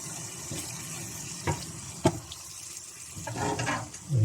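Food with garlic is stirred in a pan on a van cooker, scraping in a few distinct strokes over a steady sizzling hiss, close and moderately loud.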